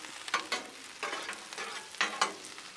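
Sliced peppers and onions tossed with a spatula on a hot Blackstone flat-top griddle, faint sizzling broken by several distinct scraping stirs that come in quick irregular bursts.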